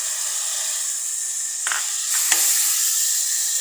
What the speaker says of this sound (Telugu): ఆనియన్ ఫ్రై అయిన తర్వాత ఇందులో కట్ చేసి పెట్టుకున్న టమాటోస్ వేయాలి